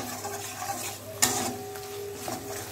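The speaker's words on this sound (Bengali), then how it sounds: "আদা বাটা দিয়ে দিলাম, দিয়ে আরেকটু আবার কষিয়ে নেব।" Spice paste with ginger paste sautés in hot oil for a Bengali rui fish rezala, a soft close sizzle broken by a spoon stirring and scraping the pan, with one sharp clink partway through.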